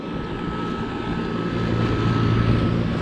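Several outdoor air conditioner condenser units, a row of Trane XE1000 HE and XR models plus a Rheem Classic, running together as a steady, loud broadband hum and fan whoosh with a faint tonal whine, continuous throughout.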